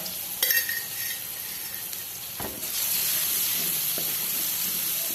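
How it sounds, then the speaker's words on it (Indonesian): Garlic baceman spice paste, about a tablespoon, hits a hot pan after a light clink and settles into a steady, bright sizzling hiss that carries on alone. "sekarang saatnya kita tumis bumbunya"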